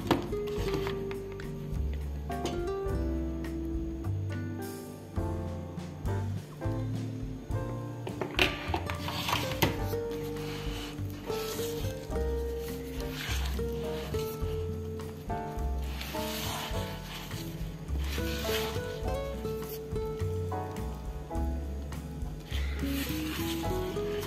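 A spoon stirs thick cake batter studded with raisins in a bowl, making soft, repeated wet rubbing and scraping strokes in a steady rhythm, close and fairly quiet, with no voices.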